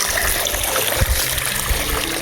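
A large amount of flowing water: a continuous rushing wash, close and moderately loud, with a few low thumps and splashes mixed in.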